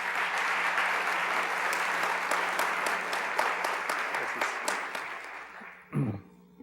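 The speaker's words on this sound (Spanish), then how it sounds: "Un aplauso para recibirlo." An audience at a ceremony marking an anniversary with the issue of a postage stamp applauds to welcome a speaker. The clapping is steady and sustained, then stops abruptly near the end with a brief thump.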